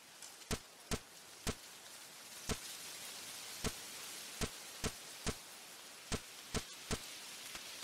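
Rain falls steadily in the farming video game Monster Harvest as a soft, even hiss, broken by about a dozen sharp, evenly spread clicks or taps. No one speaks.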